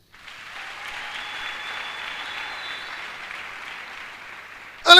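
A church congregation breaks into sustained applause for the Lord, a steady, moderately loud wash of clapping that holds evenly and ends with a sudden loud burst.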